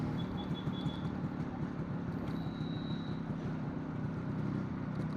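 A Yezdi CL2 motorcycle engine running on a Royal Enfield carburetor: a steady, low idling drone that holds evenly throughout, with a faint high whine briefly appearing above it.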